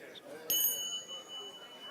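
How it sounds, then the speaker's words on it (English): Small hand bells rung to start and stop a partner exercise at a seminar, a single bright ring that lingers faintly under room noise. "let me find my bells"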